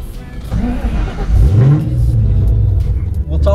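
Kenne Bell supercharged Ford Mustang Cobra pulls away on the street, its engine revving up with a rising pitch and then settling into a steady, loud rumble throughout.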